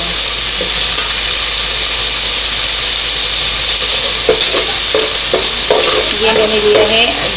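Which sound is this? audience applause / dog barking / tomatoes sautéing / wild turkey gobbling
tomatoes sautéing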